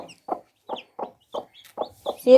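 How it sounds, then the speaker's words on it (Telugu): A young domestic chick gives a string of short, soft clucks about every third of a second, close and alone against silence, ending on a brief higher cheep. "మన కోడి పిల్లలు అయితే అలా ఉన్నాయి"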